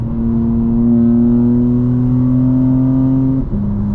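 2025 BMW M4 Competition xDrive with custom transmission tune accelerating hard in fourth gear, a loud steady engine drone rising in pitch, then a quick shift into fifth drops the note briefly before it climbs again, heard from inside the cabin without talk.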